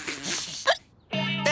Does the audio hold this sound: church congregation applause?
no